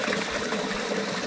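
Water gushing from a pipe fed by a dairy farm bore well on a farm in Pothwar: a loud, continuous rushing splash with no break.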